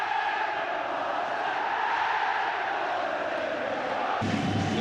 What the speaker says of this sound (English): now the Celtic crowd are taking over in the background